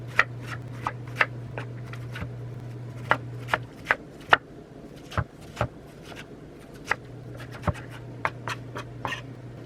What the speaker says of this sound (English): grate your onion on a box grater, sort of like you grated your cheese